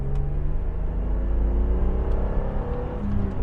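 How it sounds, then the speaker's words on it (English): A 1986 BMW 635CSi E24 engine downshifting on a twisty road, heard from inside as a steady low rumble with shifting engine tones and no talk. "And now downshifting again because we're getting to some twisties."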